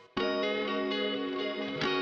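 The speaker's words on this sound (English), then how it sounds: "So this is kind of the chords, but with a lot of baked in reverb." A sustained, rich guitar chord rings out, drenched in heavy reverb and shimmering effects, swelling at the end with a fresh strum.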